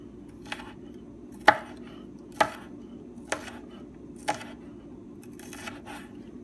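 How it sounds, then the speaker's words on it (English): Sugar snap peas are sliced very thinly on a sharp angle with a sharp knife, giving a handful of crisp, separate board taps at irregular intervals, close and fairly loud, with no voices. "we finished slicing our sugar snap peas"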